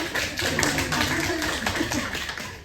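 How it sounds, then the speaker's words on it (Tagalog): Classroom applause during a French verb lesson, a dense burst of many hands clapping close by for a couple of seconds, fading slightly at the end. "Lahat naman po pumalakpak."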